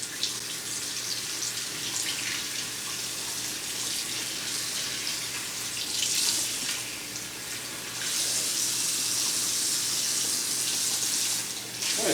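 Tap water runs steadily into a sink while boiled book pages are rinsed to wash small leaves off, a continuous hiss and splash with brief surges as the flow hits the paper.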